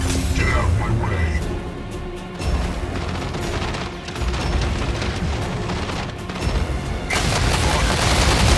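Missile rack in the Mech Arena battle royale game firing volleys, a dense, continuous barrage of rapid booms and crashing impacts with a voice shouting briefly over it.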